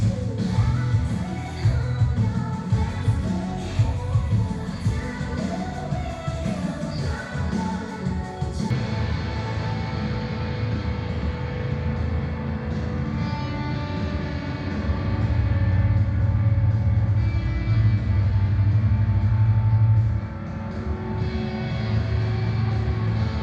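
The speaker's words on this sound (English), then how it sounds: "I'll keep my thumb up while the subwoofer's playing." A Kenwood KSC-SW11 compact subwoofer in a Honda CRX Si plays bass, giving a deep, rumbling low-end thump that switches on and off in stretches, loud and close inside the car cabin, with no talk.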